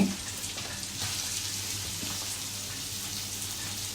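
Onions sizzle steadily in a pan while cooking a capsicum and egg curry, producing a continuous hiss at moderate level with no speech.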